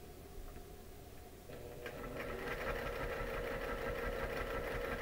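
A sewing machine stitches an overnight bag with a short stitch length at a quarter-inch seam, starting softly and then running as a steady, continuous mechanical whir from about two seconds on, close and alone.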